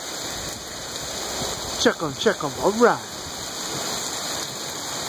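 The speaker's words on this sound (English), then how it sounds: "Above it is raining." Steady rain falls above a front porch during a downpour, a continuous broadband hiss throughout, with a person talking briefly over it midway.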